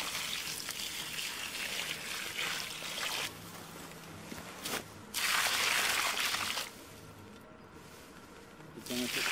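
Water poured slowly from a container onto soil around a newly transplanted fruit tree, a close, steady hissing trickle that pauses and resumes in stages.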